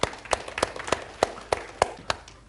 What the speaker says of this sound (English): Can you give a round of applause to them?